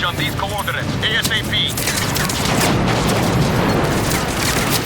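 A newly acquired aircraft-style gun in Just Cause 3 fires in heavy booming bursts, loud and continuous with rumbling explosions beneath, while someone talks briefly near the start.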